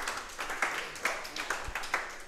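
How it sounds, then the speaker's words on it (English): A coaches' show audience gives a short round of applause, a brisk patter of many hands clapping for about two seconds. "Can we give David a round of applause?"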